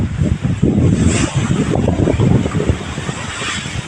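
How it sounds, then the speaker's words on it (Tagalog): Strong wind of about 25 knots at sea roars and buffets continuously aboard a sailing boat, with a rushing, gusty rumble and no voices. "the breeze of wind is like 25 knots. It's very windy."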